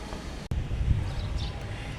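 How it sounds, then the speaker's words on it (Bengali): Wind picks up ahead of a storm, a low, rough gusting rumble buffeting the microphone after a brief cut near the start. "ছোট বাতাস উঠছে"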